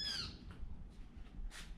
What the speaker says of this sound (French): un oiseau qui m'accueille